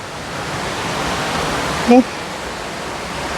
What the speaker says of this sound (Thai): ฝั่งนี้เป็นน้ำตก ชั้นที่สอง